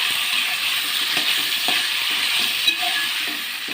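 Vegetable pieces fry in oil in a pan for moong dal khichdi, a steady broadband sizzle running throughout with a few faint stirring clicks, no voices.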